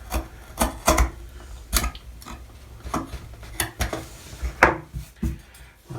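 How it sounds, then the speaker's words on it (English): A blade shaves thin slivers off a plastic part of a Yamato model warship's stern section, producing a series of short, close scraping strokes at an uneven rhythm against a quiet background. "I say just shave off a shaving like that"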